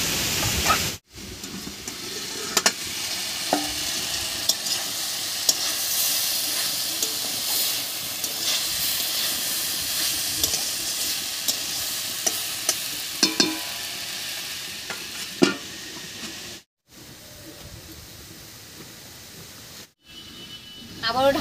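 Mixed vegetables sizzle and hiss in a pan as the lid comes off and they are stirred, a steady close frying crackle with scattered clinks and brief dips where sound drops out.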